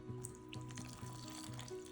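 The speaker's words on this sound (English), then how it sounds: "And then you're just gonna pour in the water." Water pours into a rock tumbler barrel full of rocks, a faint, steady trickling splash with soft gurgles throughout.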